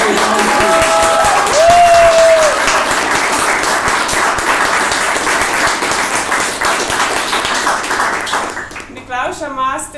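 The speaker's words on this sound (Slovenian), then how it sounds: "Dajmo še en aplavz za igralce" A crowd at a St. Nicholas celebration in a day centre claps steadily for the actors, a full round of applause with a brief whistle, fading as voices take over near the end.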